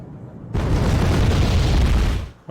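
Yak-38 bombing run explosions in the video game Wargame: Red Dragon erupt as one loud, sustained rumbling blast lasting about two seconds before quickly fading.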